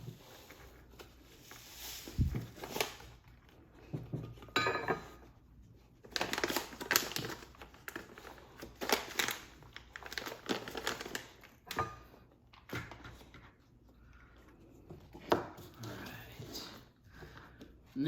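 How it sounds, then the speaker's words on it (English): Vibrobite fish food pellets poured and rattled into a container of mixed fish food, producing intermittent close crinkling, pattering and crunching bursts with pauses between them, no speech. "I'm gonna add some Vibrobite to the mix"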